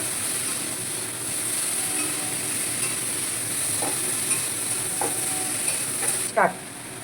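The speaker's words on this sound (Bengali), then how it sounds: "এবার এটাকে একটু ভালো করে কষিয়ে নেব।" Coriander and cumin powder fry in a pan with a continuous close sizzle, with a few scraping stirs and a sharp clink near the end, and no voices.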